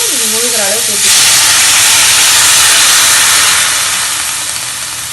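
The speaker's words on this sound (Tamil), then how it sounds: "தண்ணி வந்து இது முழுகிற அளவுக்கு ஊற்றிக்கணும்" Water poured into a hot pan of sautéed carrots and curry leaves, hitting with a sudden loud, steam-rich hiss that swells and slowly fades, after a brief whistling tone at the start.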